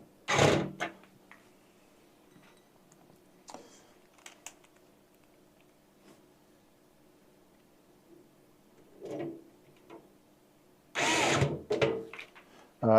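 An electric screwdriver drives screws during a PC build, heard as a few short whirring bursts separated by quiet gaps, with a cluster of louder bursts near the end and faint handling clicks between them.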